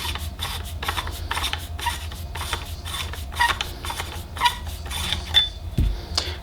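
Threads of a Savi's Workshop lightsaber hilt scraping as its bottom section is twisted off, a close, dry rasping in short repeated bursts with a few small clicks near the end.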